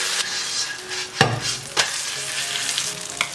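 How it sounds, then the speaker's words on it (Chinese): Yellow croaker sizzling as it pan-fries for salt-and-pepper fish, a steady crackle of oil with a few sharp pan knocks and clatters as the fish is flipped or tossed, close and without talk. "来回煎2次，会更酥脆。"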